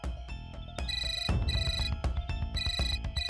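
A phone ringtone plays a bright, repeating electronic melody with regular pulsing notes, loud and close with nothing over it.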